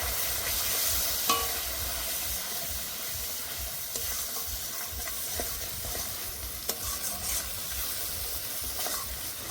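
Turmeric, coriander and Kashmiri red chilli powder frying in oil for pangas fish curry, giving a steady close sizzle with stirring scrapes and a few faint clinks throughout, with no talking.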